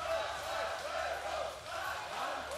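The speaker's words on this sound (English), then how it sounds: "You see both athletes having the support of the crowd." A crowd at a European Championship arm-wrestling final rematch between Bulgarian and Georgian pullers in the senior 100 kg right-hand class roars and chants in loud, surging waves of massed voices.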